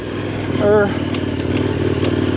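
A KTM 1090 Adventure motorcycle rumbles steadily along on a ride, its engine drone loud and close, while a voice briefly speaks over it.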